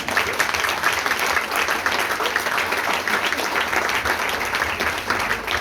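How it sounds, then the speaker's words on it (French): An audience at a public talk on frugal architecture applauds. The clapping is sustained and even and lasts several seconds. "On vous applaudit aussi."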